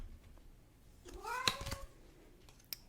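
A house cat gives one clear, close meow with a rising then falling pitch, followed by small faint rustles in a quiet room.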